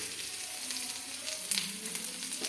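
Chopped onion frying in hot oil with mustard seeds, a steady close sizzle with soft crackling pops and a brief louder spatter midway, no voices.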